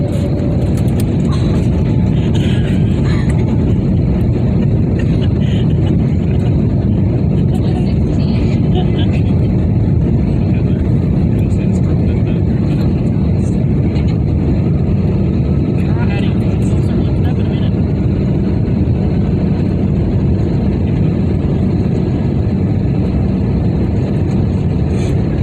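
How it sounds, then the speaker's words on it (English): Airplane engines roar during takeoff, a loud, dense, steady rumble heard from inside the cabin for the whole stretch. "We're about to take off, guys."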